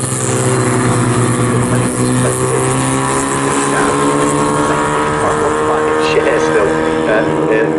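Classic 1960s sports race cars circling Snetterton circuit produce a sustained, loud engine drone with steady harmonic whine throughout, while a voice talks over the racing noise.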